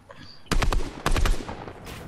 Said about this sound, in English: They're shooting from your back!